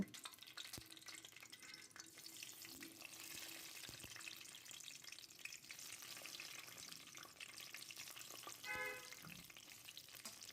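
Eggs rubbed with turmeric and salt frying in hot oil, a faint, even sizzle running throughout with a few light clicks and scrapes from the pan.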